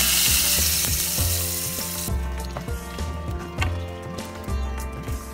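Hot tadka of oil, red chili and nigella seeds poured into a spinach chicken gravy, a loud burst of sizzling at first that quickly dies back to a softer crackle with small clinks.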